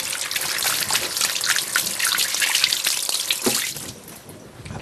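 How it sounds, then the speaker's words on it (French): Fingers are rinsed under a running kitchen tap while cooking osso buco, a steady close splash of water lasting about four seconds before easing off slightly at the end. "Je vais me rincer les doigts."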